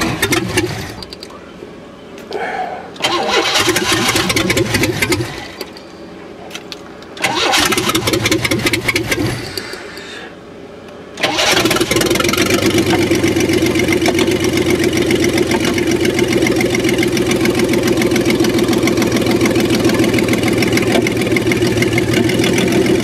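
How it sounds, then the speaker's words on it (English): A 1994 Astro van engine with its exhaust disconnected cranks and catches in short bursts, then settles into a loud, steady, raw running drone close by. "I got the exhaust disconnected so you can hear the engine better, how it's running"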